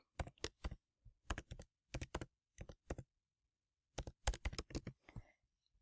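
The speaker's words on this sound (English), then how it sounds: "Then I'm going to type in mitochondria." Typing on a computer keyboard, close and clear: quick clusters of key clicks in short bursts separated by brief pauses, with a longer gap before a final run of keystrokes.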